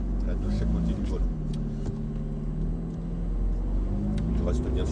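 A Ferrari F car pulls away and accelerates progressively, a steady engine rumble with rising mid-pitched tones from inside the cabin, while an instructor talks over it.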